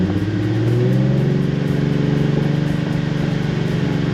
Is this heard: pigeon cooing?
no